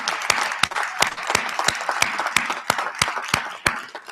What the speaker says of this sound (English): turn around, salute and applaud all those family members and friends who have supported you from the sidelines all these years